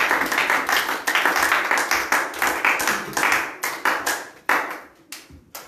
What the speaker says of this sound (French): Acclamons pour le Seigneur de gloire.